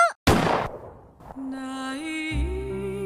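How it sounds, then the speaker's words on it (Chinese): A gunshot in a puzzle video game: one sharp, loud crack that decays quickly, followed by sustained tonal game music. "曾经对我很包容的那个男人居然向我开了枪"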